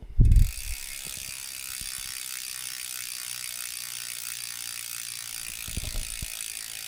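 A black aluminium freehub on a Richter Rocco 30 29er mountain bike spins freely with a fast, even ratchet clicking close up, framed by a louder clunk at the start and another near the end.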